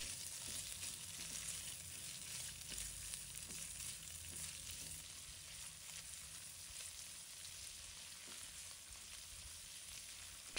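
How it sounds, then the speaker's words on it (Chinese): Shrimp stir-fry in a wok with a quiet, steady hiss of frying and soft scattered clicks of stirring, faint and even throughout with no talking. "炒香后，把虾放入锅中"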